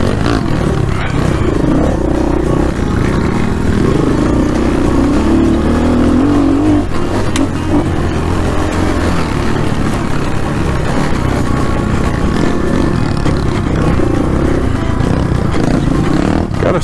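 Small 250 dirt bike engine lugging along a trail ride at Croom, a loud, continuous low rumbling drone with rising and falling revs, close and persistent throughout.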